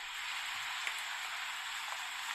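Rain falling outdoors at night in Somerville, Massachusetts, a soft steady hiss of drops with a few faint patters, distant and quiet with no talk.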